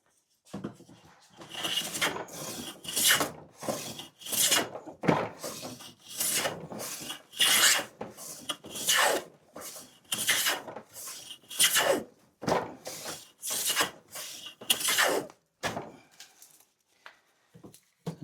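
A vintage woodworking hand plane shaves wood in a series of rhythmic, raspy strokes, roughly a dozen close passes with short pauses between them, each a dry scraping rush.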